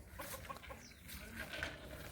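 Chickens clucking outdoors at moderate distance, a scattered flock with irregular calls over steady background noise.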